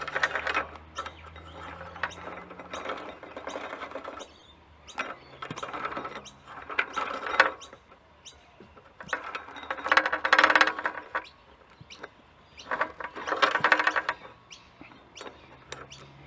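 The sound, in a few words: new motorcycle chain threaded onto Honda CT110 sprocket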